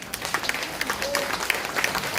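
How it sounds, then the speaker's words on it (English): Audience applause at the launch of a microcredit program, a steady dense patter of many hands clapping throughout, with faint crowd voices mixed in. "Please join me in giving a big hand of applause to our Secretary MAMONDIONG,"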